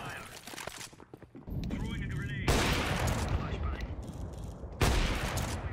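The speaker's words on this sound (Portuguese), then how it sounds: "Vamos tocar um tiro aí" Gunfire from a shooting video game on the Mirage map rings out as dense bursts of rapid shots, with loud sharp cracks coming back in waves and faint clicks between them.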